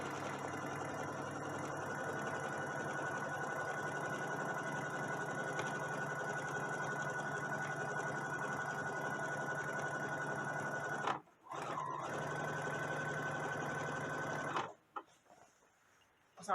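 A sewing machine stitching around the edge of a garment pocket, a steady, fast mechanical whir running close and continuous, with a brief pause partway through before it resumes and then stops near the end.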